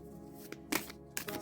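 A new deck of oracle cards, still a little sticky, is shuffled by hand, giving a few soft riffling bursts against a quiet background.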